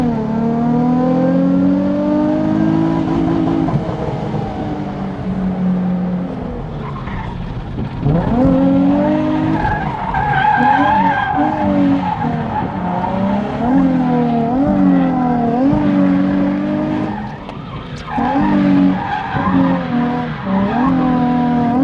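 Completely stock Nissan 350Z drifting on track, engine note rising and falling in sweeping revs while tires squeal and skid loudly and continuously, close and dominant, with a brief lift near the end.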